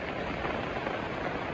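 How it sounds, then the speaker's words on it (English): Heavy rain pours steadily in Seodaemun Valley beside swollen, flowing stream water, a dense continuous hiss close by with no pauses. "today it rains so heavily."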